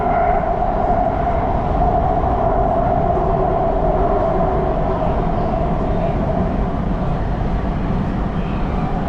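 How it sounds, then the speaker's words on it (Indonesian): An MRT metro train in Malaysia runs, heard from inside the carriage as a steady, loud rumble of wheels and motors with a constant whine, no voices. "nanti kita lihat sampai mana ini MRT ini"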